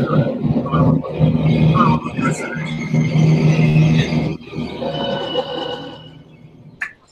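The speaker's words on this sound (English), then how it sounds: "that screeching noise was Bendy" A harsh, high-pitched screech from the creature Bendy wails and squeals over a grinding mechanical drone, rising in bursts before fading out.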